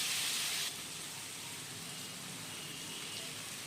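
Tomato pieces drop into a pan of frying ginger, a loud hiss bursting at first and then settling into a steady, softer sizzle that carries on throughout.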